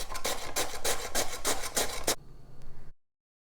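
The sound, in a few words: grating peeled potato by hand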